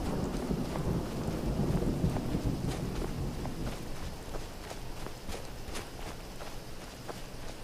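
Steady rain with low rumbling thunder in a video game storm, accompanied by footstep-like crunches; the downpour stays dense and continuous throughout without any voices.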